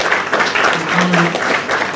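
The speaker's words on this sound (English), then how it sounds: "Please, a round of applause" A crowd applauds at a Nigerian celebrity gathering, a steady wash of clapping that runs the full two seconds with a faint tonal murmur beneath it.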